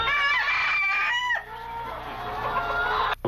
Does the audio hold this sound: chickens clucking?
yes